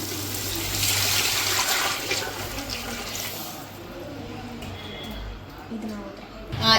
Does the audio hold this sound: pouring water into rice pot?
yes